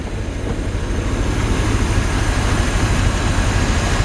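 A 1974 Corvette convertible with its original matching-numbers 350 V8 and throaty exhaust runs smoothly while driving, a steady low rumble mixed with broad road and wind noise, continuous and fairly loud with no talk.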